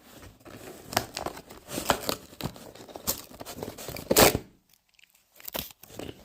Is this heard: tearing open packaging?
yes